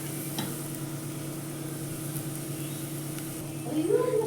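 Grated coconut frying with dried red chillies in a pan, a steady soft sizzle under a low hum, with a brief stirring scrape near the end.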